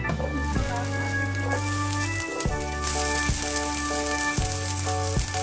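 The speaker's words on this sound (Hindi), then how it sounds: "ये हमने पैन में कुछ ऑयल लिया है, अब इसमें प्याज ऐड करेंगे।" Onions go into hot oil in a pan and sizzle steadily, a continuous hiss that stays fairly loud throughout, heard alone over a sustained background tone.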